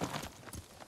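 A horse in the video game Ghost of Tsushima clip-clops through a few quick, close hoofbeats in under a second.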